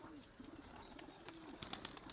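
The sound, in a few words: pigeon cooing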